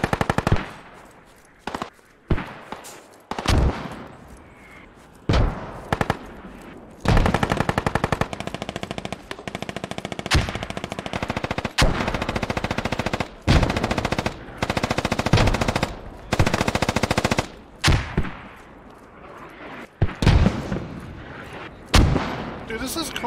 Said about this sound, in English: Now I'm taking fire from our six.